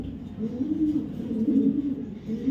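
Racer pigeons coo in low, rolling, throaty murmurs at a pigeon farm, close by and continuous, with faint background noise.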